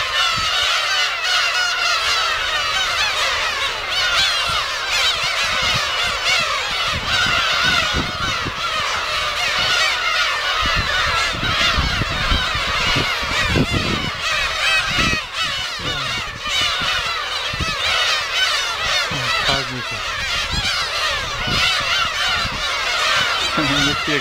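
A dense flock of geese-like birds honks continuously and loudly, overlapping calls forming a steady clamor close by, with occasional low rumbling thumps underneath.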